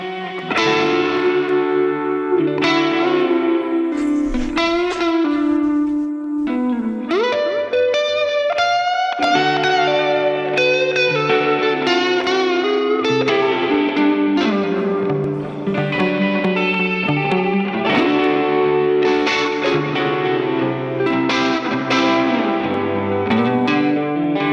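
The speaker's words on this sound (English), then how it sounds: "let's give that a listen to the solo here" Recorded solo from a song played back in a Logic session: loud, continuous, effects-heavy instrumental music with sustained, shifting melodic notes throughout and no talking.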